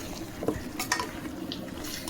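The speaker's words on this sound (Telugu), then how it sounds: "అలాగే గరం మసాలా ఓ 2 నిమిషాలు కలిపేసుకుని ఉంచుకొని అవ్వాలి" A spoon stirs garam masala and salt into a pot of spicy chicken curry, making faint scrapes and light clinks against the pot over a soft cooking hiss.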